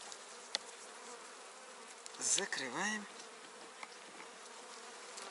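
Constant low buzzing of many honeybees at an open hive, with a brief spoken Russian word breaking in midway.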